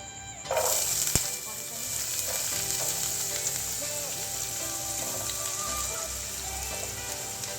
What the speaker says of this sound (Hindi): इसमें मैं ऐड कर दूँगी कट की हुई प्याज